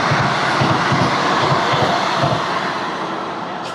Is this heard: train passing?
yes